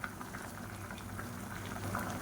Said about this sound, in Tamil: இப்போ நல்லா கொதிக்க ஆரம்பிச்சிருச்சு